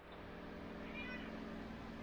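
A pet cat gives a faint drawn-out meow in a garden after rain, thin and distant over a steady background hum, with no other sounds standing out.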